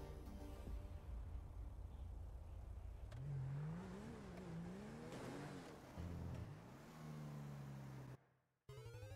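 A McLaren in GTA 5 roleplay revs hard, the engine note climbing and falling through gear changes over a constant loud drone of road noise, cutting out abruptly near the end.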